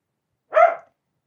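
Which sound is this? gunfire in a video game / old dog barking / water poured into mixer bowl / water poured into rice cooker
old dog barking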